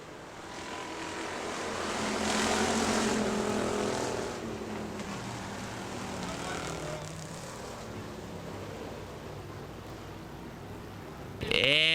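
Factory stock cars race at Hartford Speedway Park, their engines swelling into a loud roar as they pass, then easing to a steady distant drone, with a short sharp noise at the very end.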